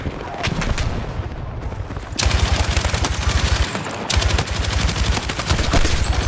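Light machine gun fire in Battlefield 6, loud sustained automatic bursts with rapid regular shots, pausing briefly then resuming, close and dominant.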